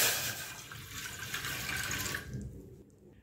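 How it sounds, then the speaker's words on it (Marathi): Water poured steadily from a container into a cooking pan for sugar syrup, a continuous splashing pour that stops abruptly near the end. "आपण याच्यात थोडंसं पाणी टाकणार आहे।"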